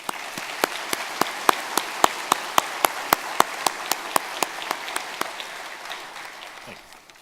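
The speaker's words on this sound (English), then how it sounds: "Let's give them a round of applause." Applause at a police and sheriff recruit graduation ceremony, with a crowd clapping steadily and one close pair of hands striking sharp, evenly spaced claps that gradually fade toward the end.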